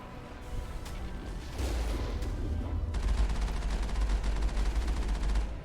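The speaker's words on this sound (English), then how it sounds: "Really? You shooting the ground there," The Mako vehicle fires its guns in Mass Effect, dense loud bursts of gunfire over a deep, rumbling engine drone, ending in a rapid rattling volley that runs to the end.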